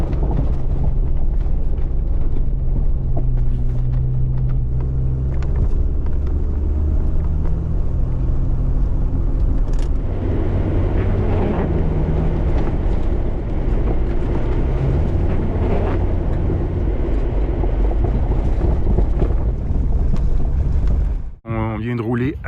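An old Jeep drives along a trail at a camping spot, with a continuous loud, low engine rumble and drivetrain droning, shifting in tone as it rolls over the terrain before cutting off abruptly near the end.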